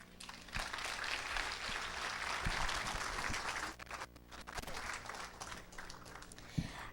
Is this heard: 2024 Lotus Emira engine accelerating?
no